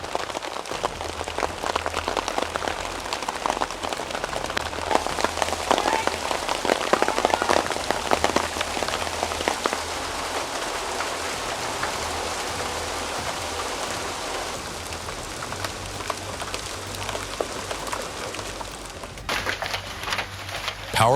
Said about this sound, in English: Hail can fall fast enough to dent cars, and San Joaquin today is taking a full-on ice cube attack.